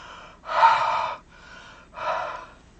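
Two slow, close, breathy exhalations onto an inked rubber stamp, each about half a second long with a short pause between.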